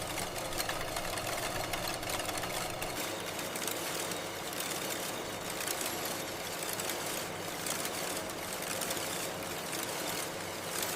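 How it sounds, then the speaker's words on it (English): A high-speed circular knitting machine with thousands of steel needles turns recycled yarn into breathable fabric in a Vietnamese factory, giving off a dense, steady mechanical whir and rattle without pause. "The yarn bobbins are loaded into one of the world's most advanced circular knitting machines."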